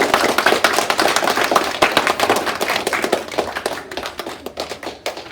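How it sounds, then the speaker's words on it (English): Applause for grade 5 students at a school celebration ceremony: loud, close, rapid clapping from many hands that thins and fades toward the end. "how about a big round of applause for all of you?"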